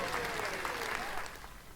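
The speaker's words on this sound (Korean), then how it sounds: "우리 박수 한번 칩시다" A short burst of steady, dense clapping during a live futures-trading broadcast, like a small group applauding together, holding even for a moment before tapering off.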